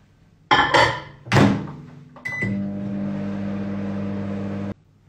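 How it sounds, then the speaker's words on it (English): A few thumps of a door shutting and buttons being pressed, then a microwave oven hums steadily for a couple of seconds before stopping abruptly. "I'm just going to put it in the microwave for literally 10-15 seconds"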